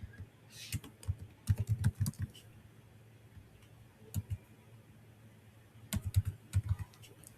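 Fingers type on a computer keyboard while filling in an online KFUPM scholarship application form, making clusters of crisp, close keystrokes separated by short pauses, with no talking.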